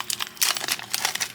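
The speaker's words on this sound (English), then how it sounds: "I'm going to take some tape and tape this together" Tape being pulled and pressed onto a money bouquet made from Dollar Tree supplies, a quick series of close crinkly rips and rustles in short bursts.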